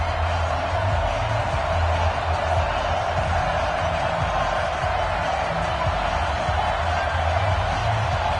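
Steady roar of a stadium crowd at an NFL game between the Baltimore Ravens and Miami Dolphins in an EA Sports football video game, a constant dense wash of distant murmuring spectators throughout.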